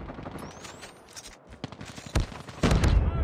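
Gunfire in a shooter video game, scattered sharp shots and short bursts, some distant and faint, then louder close shots near the end, with no talking.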